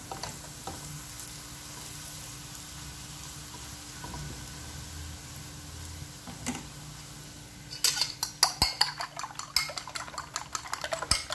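Plantain slices sizzle in olive oil in a frying pan, a steady soft crackle that turns busier and louder near the end with sharp utensil scrapes and clinks against the pan.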